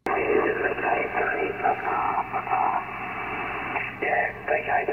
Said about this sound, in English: although you'll notice some severe distortion on the signal, as my mate Steve VK3KTT shows right here